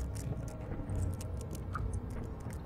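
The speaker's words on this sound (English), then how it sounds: "He's just chewing on potato chips." Monster chewing in the horror game Amnesia: The Dark Descent, a soft, faint, irregular crunching and smacking with scattered clicks, steady and close, with no voices.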